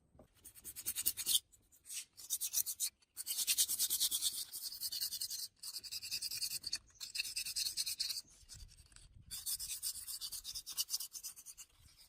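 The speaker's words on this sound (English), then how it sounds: "The rust is removed with brushes, sandpaper, and cleaning solutions." Rust is brushed and sanded off a six-speed transmission in a close, bright scrubbing rasp, coming in repeated bursts of strokes separated by short pauses.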